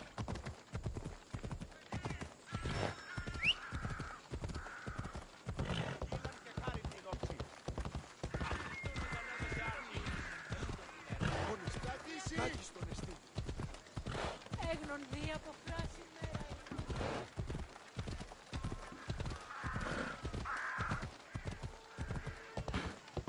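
A horse gallops in Assassin's Creed Odyssey with rapid, rhythmic hoofbeats that keep up steadily for a long stretch, with occasional neighs and whinnies and spoken game dialogue over the hooves.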